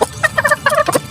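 Fighting cocks and native chickens feed up close, giving quick clucks and soft gobbling calls over light pecking sounds in a brief burst.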